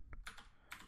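Computer keyboard keys being typed while entering code for a Django project, a few quick close clicks in a short burst.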